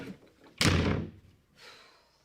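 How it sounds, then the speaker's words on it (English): A door slams shut with one loud, sharp bang that rings out briefly, followed a moment later by a softer rumble or thud as the house settles into quiet. "Always slamming doors in men's faces."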